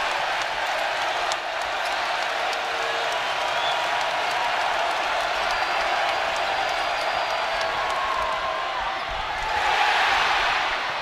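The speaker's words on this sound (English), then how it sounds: "This crowd is crazy." A packed arena crowd cheers and roars without a break at a Purdue versus Arkansas college men's basketball game, a loud, dense wash of noise that swells further near the end.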